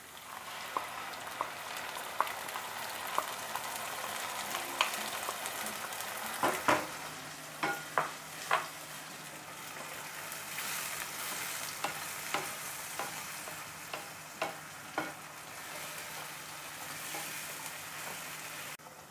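Green masala paste hitting softened onion in hot oil for chole, giving a steady, close sizzle with a scattering of sharper spoon clicks and scrapes against the pan throughout; no one speaks.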